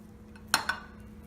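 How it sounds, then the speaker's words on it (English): A spoon or scoop knocks twice against a bowl while hardened fat bomb mixture is scooped out to roll into balls, two short close clinks a moment apart in a quiet kitchen. "we can now go ahead and scoop and roll into a ball."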